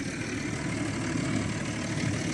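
Tractor engine running steadily near a stuck dung spreader, a low, rumbling idle that holds constant and loud for the whole short stretch, with no talking.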